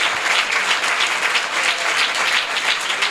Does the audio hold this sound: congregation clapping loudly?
yes